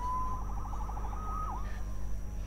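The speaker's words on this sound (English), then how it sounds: "Saved by the siren." A police siren wails briefly in the video game Marvel's Spider-Man, a short rapid yelp that dips and fades over a low steady background hum.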